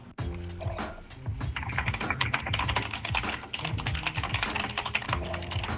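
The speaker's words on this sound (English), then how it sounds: "That is some furious typing going on over there." Rapid, furious typing on a computer keyboard during a 2v2 gaming session: dense, steady clacking of keys close by, keeping up without pause.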